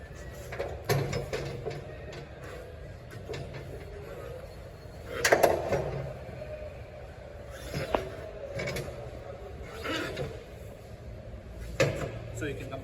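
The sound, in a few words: releasing and pulling out Toyota Urban Cruiser HyRyder spare wheel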